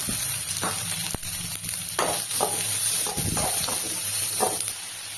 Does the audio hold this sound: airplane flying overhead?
no